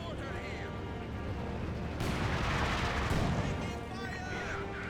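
A mortar barrage in the World War II strategy game Company of Heroes 2 bursts into a heavy, rushing roar of explosions for about a second, rising above a steady bed of battle noise.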